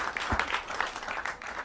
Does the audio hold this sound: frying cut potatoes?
no